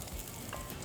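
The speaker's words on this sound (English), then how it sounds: "it's sizzling, so that's hot enough" Hot oil sizzling in a pan with toasted ingredients while cooking, a dense crackling hiss that stays constant and close for a brief moment, with no voices over it.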